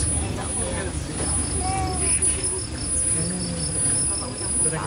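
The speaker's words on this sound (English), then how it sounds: "All set against a chorus of crickets." A nighttime chorus of crickets at Singapore's Night Safari forms a steady high trilling layer beneath a low rumbling background, while voices murmur and a faint chirpy call rises briefly.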